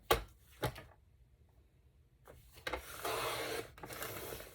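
Paper being sliced with a Creative Memories trimmer while making a scrapbook page, a close, dry rasping slide of the blade across the sheet, with brief clicks and a quiet gap before the longer cut.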